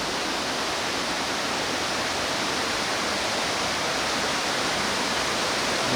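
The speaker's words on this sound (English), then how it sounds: "There's the river flowing into the upstream entrance of the cave" A river pours into the upstream entrance of a cave in a national park in Laos, giving a steady, loud, broadband rush of water that holds constant with no other sounds.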